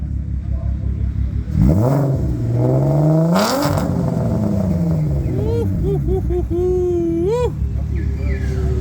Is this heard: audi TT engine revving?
yes